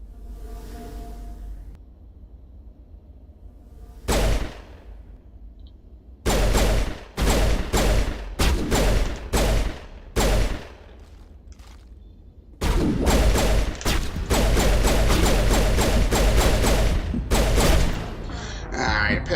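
Pistol gunfire in the Mass Effect video game, loud bursts of shots in separate clusters, then a longer sustained volley near the end, between quieter stretches of game ambience.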